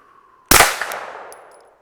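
A single sharp crack from a suppressed Glock 19 pistol fires close by, with a bright, loud burst that rings and decays over about a second, followed by a faint metallic clink.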